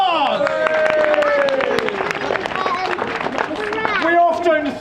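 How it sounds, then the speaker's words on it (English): A theatre audience applauds for a touring theatre company, with steady clapping under loud, sustained cheering voices throughout. "Please give us a big round of applause!"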